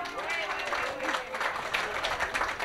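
An audience at the Marseille international fair applauds, a dense, sustained wash of many hands clapping with crowd noise, while someone speaks over it in French.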